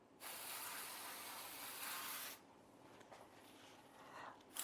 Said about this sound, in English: I really like this sprayer because that is a pretty effective spray and it's getting everywhere